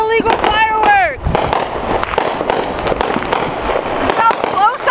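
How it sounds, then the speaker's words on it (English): Illegal Fourth of July fireworks burst close by in a rapid, crackling barrage, loud and dense throughout, with whistling rockets rising at the start and near the end. "We live in an area where there are a ton of illegal fireworks!"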